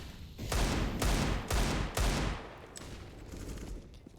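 Rapid pistol shots crack out in a competitive Counter-Strike match, four loud evenly spaced bursts about half a second apart, then quieter scattered shots trailing off.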